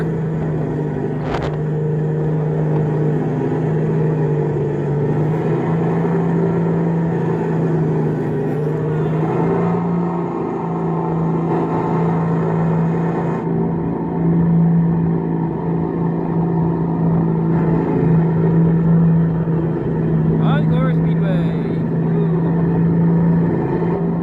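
Go-kart on the speedway aboard the Norwegian Encore cruise ship, a steady motor drone with a constant low hum running through the whole stretch, close and continuous with occasional faint knocks.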